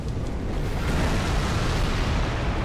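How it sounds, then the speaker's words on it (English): Explosions in Dark Souls 3 roar as a dense, continuous rumbling blast, loud and sustained throughout with heavy low-end boom and no talk. "now I'm in range of the explosions"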